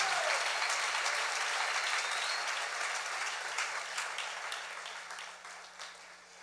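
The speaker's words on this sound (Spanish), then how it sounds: "Dale fuerte el aplauso al Señor." Church congregation applauding during a sermon, dense sustained clapping from a crowd that gradually fades toward the end, heard alone without talk.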